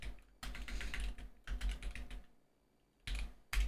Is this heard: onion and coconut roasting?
no